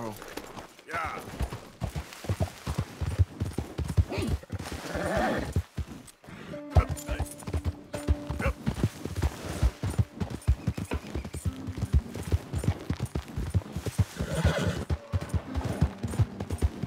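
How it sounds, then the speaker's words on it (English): Horse hooves clip-clopping steadily in the open-world western game Red Dead Redemption 2, a quick rhythmic trot with an occasional whinny and a voice talking over it. "vamos a usar este caballo para ir a por sombra"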